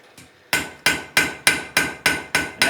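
A hammer draws out a hot iron J-hook on an anvil: one light tap, then seven loud, evenly spaced ringing blows, each decaying briefly before the next.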